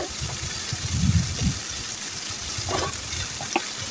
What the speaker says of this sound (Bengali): মশলাটাকে আমি আরও কিছুক্ষণ চিংড়ি শুটকির সাথে ভালোভাবে কষিয়ে নেব আমি